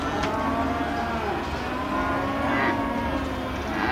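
Cattle low at a busy livestock sale yard on sale day, their moos mixed into a constant din of yard noise, with a faint voice or two in the background.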